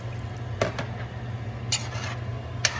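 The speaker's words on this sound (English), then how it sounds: "So now I'm gonna apply my water." Water is poured into a pot of browned meat for a Jamaican home-cooked meal, giving a few brief splashes and drips over a constant low stove hum.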